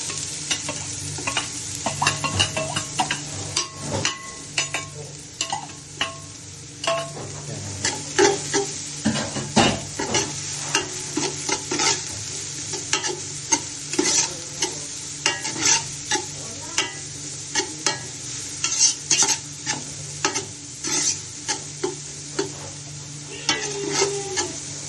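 Garlic and onion sauté in a pan for arroz caldo, sizzling steadily while a utensil stirs and scrapes in a continuous uneven rhythm, close and moderately loud.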